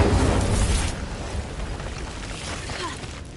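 Incendio fire spell cast in Hogwarts Legacy, a loud rushing burst of flame that erupts at once and then roars on as a dense, fading whoosh.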